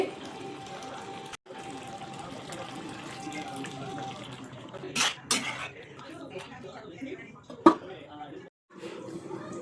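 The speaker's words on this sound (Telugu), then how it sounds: "ఇప్పుడు ఒక 1/2 గ్లాసు నీళ్లు పోసి ఉడకనిద్దామండి మూత పెట్టి." Half a glass of water pours into a pot of gongura chicken, a steady splashing stream running for several seconds under a voice, with a short gap near the end.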